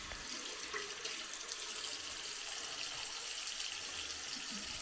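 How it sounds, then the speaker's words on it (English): Water runs steadily from a tap to wet hair during a wash, a continuous close hiss and splash with a bright, even spray character and no talking. "First, I will wet my hair completely."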